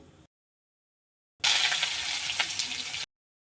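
Onion frying with mustard seeds in a pan for a Bengali rava upma, a steady broadband sizzle lasting under two seconds after a short burst, close and fairly loud, with no talk.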